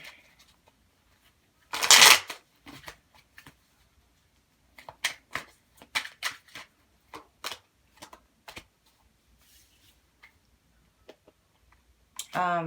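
Tarot cards being shuffled up close, with a loud riffle burst near the start followed by a string of crisp card snaps and slaps at uneven intervals, with no talking.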